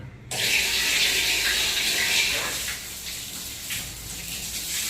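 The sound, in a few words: water running while washing dishes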